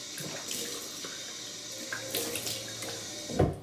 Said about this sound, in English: let me put some water on my face